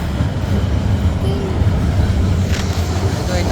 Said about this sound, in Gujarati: એ ટ્રેન આવી